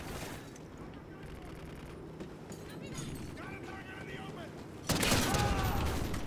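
Gunfire rattles in a first-person shooter video game, with scattered shots and a louder burst near the end, heard under a player's steady talk.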